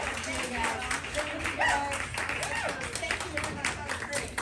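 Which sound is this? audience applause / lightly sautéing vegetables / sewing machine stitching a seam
audience applause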